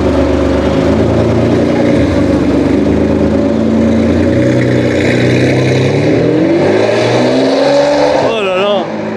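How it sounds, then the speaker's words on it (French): A Ferrari engine revs loudly and continuously nearby, its pitch rising and falling over several seconds, with voices audible over the roar. "Oh là là, oh le moteur."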